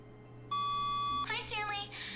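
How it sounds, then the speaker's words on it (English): A phone in The Stanley Parable: Ultra Deluxe gives a single steady electronic ring tone lasting under a second, quickly followed by someone talking over a low background hum. "That phone ringing again."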